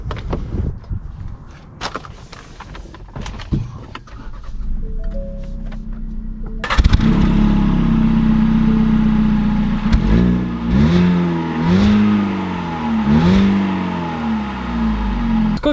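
A 2020 Ford EcoSport Titanium small SUV starts with a sharp burst, then its engine settles into a steady close idle and rises and falls through several revs as it drives off, following quieter handling noises.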